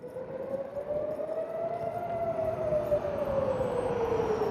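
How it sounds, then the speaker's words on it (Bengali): An air raid siren in Israel wails in one long continuous tone that slowly rises and falls, loud and steady throughout with no voices. "ঘন ঘন সাইরেন, আশ্রয়কেন্দ্রে ছুটে যাওয়া"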